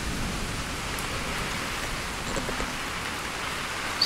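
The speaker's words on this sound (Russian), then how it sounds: "Все, дождь." Steady rain falls at a countryside dacha at night, a dense, even hiss of drops on surfaces close by, continuous with no talking.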